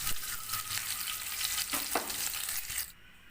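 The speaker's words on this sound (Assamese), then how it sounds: "এয়া মই এইকেইটা ফ্ৰাই কৰি ল'ম।" Eggs sizzle and crackle in a hot pan for an Assamese-style egg curry, a dense close frying hiss with a brief stir or scrape before the sizzle abruptly drops away at the end.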